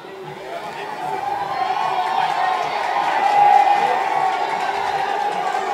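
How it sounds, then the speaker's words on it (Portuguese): Operário football fans in a stadium crowd at the 2023 Sul-Mato-Grossense state championship final, a steady distant wash of applause and cheering that swells slightly and stays under a commentator's voice. "A torcida do Operário aplaude por ali."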